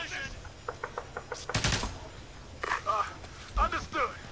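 Bursts of automatic gunfire and scattered shots in the Ghost Recon Advanced Warfighter video game, crackling in rapid rhythmic volleys beneath shouted voices and radio chatter during a combat mission.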